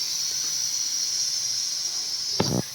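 Steam hisses from a pressure cooker of carrots being opened after cooking, a steady bright hiss running throughout with a brief louder burst and clatter near the end.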